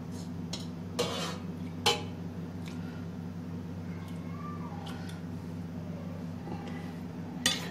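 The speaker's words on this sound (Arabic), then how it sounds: "هحط اللحمه بتاعتي، وكمان هحط كبشين 3 من المرقه" Cooked meat and ladled broth going into a cooking pot: a few sharp metallic clinks and scrapes of a ladle against the pot, spaced out over a steady low kitchen hum.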